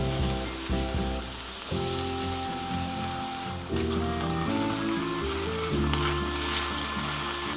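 Eel sizzles on a grill as it cooks, a close, continuous frying crackle and hiss throughout with no voices.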